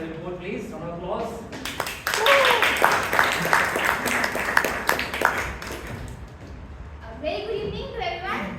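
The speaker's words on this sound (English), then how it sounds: "Round of applause." A small club meeting audience gives a short burst of clapping, hands patting briskly for a few seconds in a room, with people talking before and after the applause.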